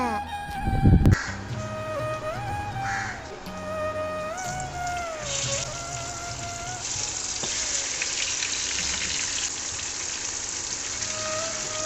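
Spiced chicken pieces for biryani fry in oil with a continuous crackling hiss, a loud clunk near the start, and faint tonal kitchen background noise running underneath.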